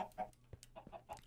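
Chickens cluck in a Minecraft game, a series of short choppy clucks in quick irregular succession, close and fairly quiet, with no talk.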